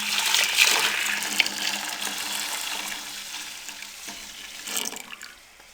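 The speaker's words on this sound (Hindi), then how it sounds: "अब इस चाशनी को दोबारा फिर हम इस पतीले में डाल देंगे।" Sugar syrup poured back into a cooking pot while making jaggery rice: a continuous liquid splash and sizzle, loudest at the start, easing to a steady hiss, then a brief surge before it fades.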